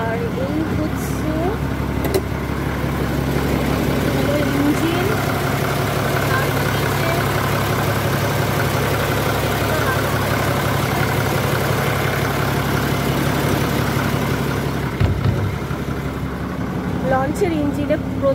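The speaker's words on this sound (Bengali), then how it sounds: "লঞ্চের ইঞ্জিনে প্রচন্ড আওয়াজ হয়" A river launch boat's engine in the Sundarbans drones loudly and steadily without a break, a heavy, constant rumble that fills the space, with voices faintly mixed in.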